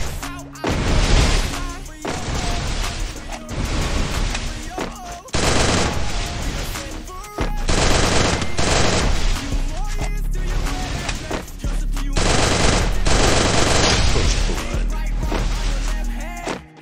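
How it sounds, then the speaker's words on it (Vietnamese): Rapid bursts of automatic gunfire from the Free Fire shooting game crackle loudly in repeated volleys, separated by brief pauses and sharp single shots. "Mình bắn Ken bắn khó chịu anh em."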